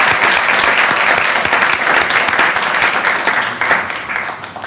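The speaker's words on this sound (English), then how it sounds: "Let's give him another heartfelt thank you then." Sustained applause from the audience at a Grand Forks city council meeting, steady and dense clapping holding at full level for the whole stretch before tapering slightly at the end.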